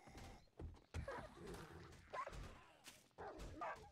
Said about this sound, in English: A freaking dog?